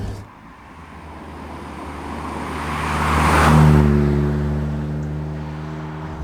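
A Morgan Plus 4, a dealer demonstrator, drives along with a steady engine drone and wind rush that swell as it picks up speed, then settle into a sustained, even hum.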